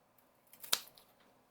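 A single crisp snip as a Monstera plant stem is cut, close and fairly quiet, a sharp click standing out against near silence.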